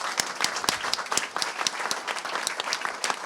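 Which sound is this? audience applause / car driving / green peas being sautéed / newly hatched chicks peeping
audience applause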